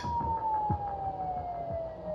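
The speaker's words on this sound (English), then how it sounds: "the distant sound of police sirens" A wailing siren sliding slowly downward in pitch, steady and fairly distant, over low rumbling traffic noise.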